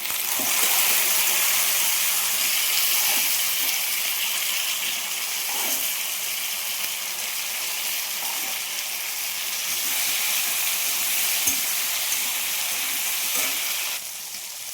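Potatoes fry in a pan, a close steady sizzle and hiss lasting the whole stretch, with occasional faint stirring knocks and no talking.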